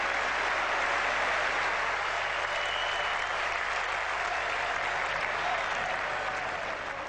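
Steady applause from a cricket crowd at a 1981 England versus Australia Test match, marking England reaching 300, sustained and broad across the whole stretch with no break.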